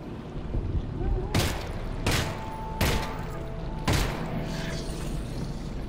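Gunfire in the video game Half-Life: Alyx, four sharp loud shots spaced about a second apart over a low ambient hum.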